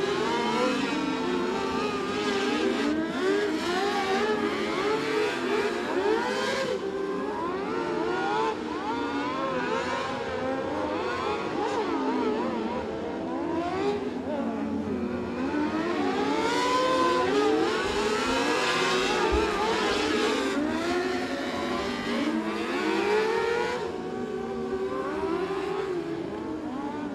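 Dirt track race cars circling a racetrack, several engines whining and rising and falling in pitch as they pass, overlapping in a continuous loud drone with no break.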